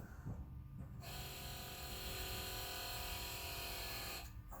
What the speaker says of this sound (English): with the key on, the pump is actually activating and pushing out all this old brake fluid